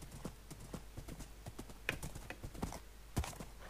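Hooves of a horse clip-clop in a steady galloping rhythm inside a video game race, sharp repeated strikes carrying on throughout with a faint voice briefly in the background.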